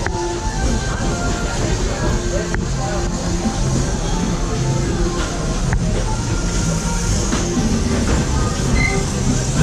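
Riding aboard the Walt Disney World Railroad steam train: rolling wheels rumble and clack steadily, with occasional sharp metallic squeals and knocks, and voices faintly mixed in.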